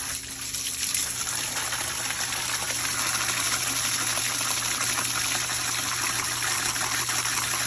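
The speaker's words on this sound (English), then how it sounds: "The water's starting to come out a little clearer though." Water gushing steadily through the radiator of a Bobcat 1840 skid steer, a constant broadband rush with a hum underneath, loud and continuous throughout.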